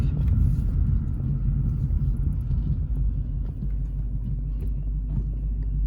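A manual-transmission car rolls toward a stop sign with the clutch in, in neutral and braking, giving a steady low engine and road rumble that eases gradually, heard from inside the cabin.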